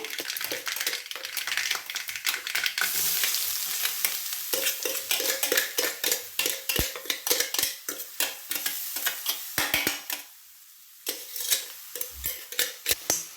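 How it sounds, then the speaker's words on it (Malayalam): Ground coconut paste for an ash gourd thoran frying and being stirred in a pan: a steady sizzle broken by repeated close scraping strokes of a spoon, with a short quiet pause near the end. "ഇനി നെക്സ്റ്റ് നമ്മൾ അരച്ച് വെച്ചിരുന്ന അരപ്പെല്ലാം കൂടി ഇട്ട് കൊടുക്കണം കേട്ടോ"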